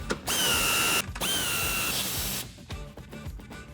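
Ratchet with a 13mm socket tightens the nuts of a running board bracket on a Ford F-150, fast dense clicking runs close up, then slower spaced clicks as the nut snugs down.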